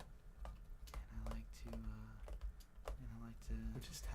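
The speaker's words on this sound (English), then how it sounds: "We're just tapping on the keyboard." Fingers tap on a computer keyboard in a run of soft, irregular clicks, close up, with a low voice murmuring underneath at times.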